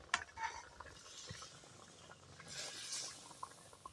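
Gentle stirring of duck eggs in boiling water in a cooking pot, a village-style Bengali egg curry: soft scraping, light clinks and liquid sloshing come in short irregular strokes at low volume, with no voices.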